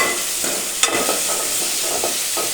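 Potatoes and tomatoes, with chilies, are stirred and fried in hot oil for a spicy fasting khichdi, a loud steady sizzle with repeated scraping strokes of the spoon and no talk.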